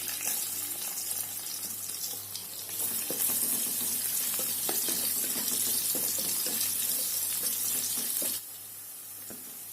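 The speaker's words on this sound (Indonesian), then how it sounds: "Pertama kali saya tumis bawang putih." Garlic sautés in hot oil in a wok with a loud, steady, close sizzle and crackle, plus occasional stirring clinks, until the hiss drops sharply near the end.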